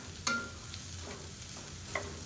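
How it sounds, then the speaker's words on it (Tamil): Green beans and onion fry in a pan over medium flame, giving a steady soft sizzle with a couple of brief stirring scrapes, close and fairly quiet, without talk. "இப்போ மீடியமான ஃப்ளேமில் இதை நல்லா வறுத்துக்கலாம்"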